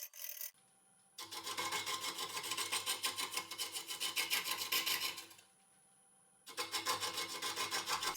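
A scraper tool cuts into a spinning cherry burl bowl on a wood lathe, giving loud rhythmic rasping in two long passes, with the lathe's quiet hum filling the pause between them.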